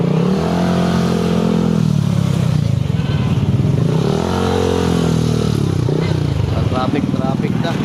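Busy street traffic with motorcycles revving and passing at the crowded Malabon fishport, a steady close engine drone with rising and falling revs under continuous chatter of people talking nearby.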